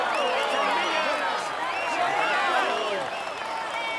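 Crowd cheering and applauding in the Tour de France 2019 cycling game, a dense continuous roar of many voices with whistles and shouts, loud and unbroken.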